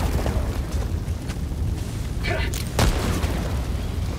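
A loud, deep explosion boom rolls out in Helldivers 2 amid continuous game noise and rumble, with a sharp burst near the end.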